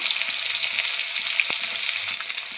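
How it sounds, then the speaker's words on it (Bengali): Onions and green chillies frying in oil in a wok, a steady close hiss of sizzling with faint stirring scrapes, continuous and loud throughout with no talking. "এই যে কড়াইতে তেল দিয়ে দিলাম, এইবার একটু বেশি করে পেঁয়াজ কাঁচা লঙ্কা দিয়ে দেবো"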